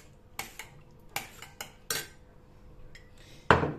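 A spoon knocks and scrapes against a pan as potatoes and meatballs are stirred with tomato paste, water and olive oil, giving a few sharp separate clanks and a louder final clatter in a quiet kitchen.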